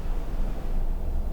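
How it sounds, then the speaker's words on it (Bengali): Sea waves at Cox's Bazar beach near Sugandha Point give off a continuous broadband roar, a dense, steady wash of noise with no distinct breaks, along with some wind. "বাট সমুদ্রে কিন্তু একটু গর্জন, প্রচুর গর্জন আসছে।"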